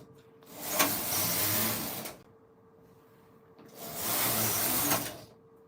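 A Silver Reed knitting machine runs in two passes, each a loud mechanical whirring rattle of about one and a half seconds with quiet gaps between, close by and without talk.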